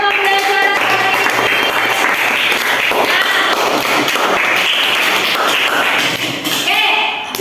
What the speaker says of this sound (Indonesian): Tepuk tangan untuk kita semua untuk pembelajaran hari ini.